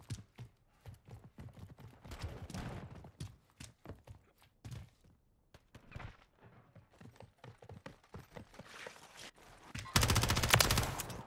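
Rapid gunfire from a Call of Duty combat game, with bursts of automatic weapon shots and scattered single cracks throughout, growing denser and louder toward the end.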